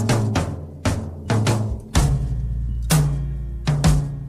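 Dry, close-miked 1970s-style recorded drums play a slow beat, punchy kick and snare hits with short tight decays and almost no room echo.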